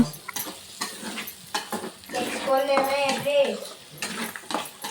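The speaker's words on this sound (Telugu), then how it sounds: "అడుగంటకుండా బాగా కలియబెట్టాలి" Broad bean and egg fry being stirred in a pan, a ladle scraping and clinking against the metal in irregular strokes with faint sizzling, while a voice speaks briefly partway through.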